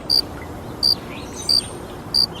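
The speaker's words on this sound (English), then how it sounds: "There's crickets. And I have a cricket sound effect for you here." A cricket sound effect chirps four times at an even, slow pulse, each short shrill trill standing out over a soft steady background hiss.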